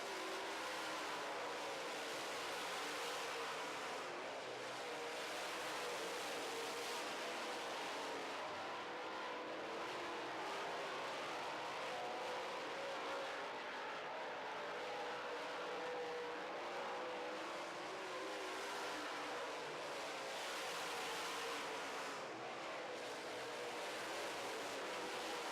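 Late model race cars running heats on a track, engines droning and rising and falling as they circle, heard faint and distant as a continuous low roar, no speech.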